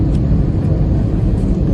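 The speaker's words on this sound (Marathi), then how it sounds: "हे बघा आपला उतरल्यावर बघा फास्ट चालतं विमान." A passenger airliner touching down and rolling fast along the runway at Mumbai International Airport, heard as a steady, loud low rumble that fills the cabin without a break.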